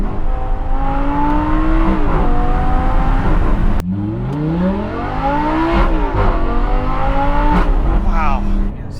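A Lamborghini Superleggera's V10, mounted behind the seats, revs hard while driving, climbing through gears with rising pitch and sharp shift breaks, loud and close from inside the cabin as occupants talk over it.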